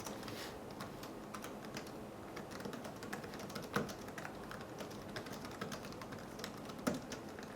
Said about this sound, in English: let's move it to a desk and see how much wobble we get while typing on the desk